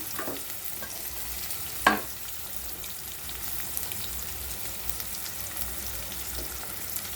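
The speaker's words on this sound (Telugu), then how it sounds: "తొందరగా ఆయిల్ వేడెక్కింది ఆనియన్స్ వేసుకున్నాం" Onions sizzle steadily in hot oil in a steel pot over high heat, a soft continuous crackle with one brief clatter near the start and no voices.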